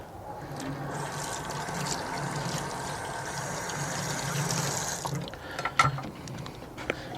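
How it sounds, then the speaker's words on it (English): Water runs over oil-change tools and a funnel being rinsed clean, a steady trickling wash with faint rattles of metal, ending in a few clinks and knocks as the tools are handled. "rinsing my tools off here"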